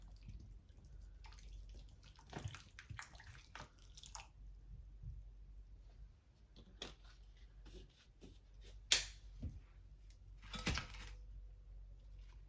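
Water poured from a bottle into a potted houseplant trickles and drips in irregular bursts, with small splashes and gurgles close by, quiet overall with brief louder spills.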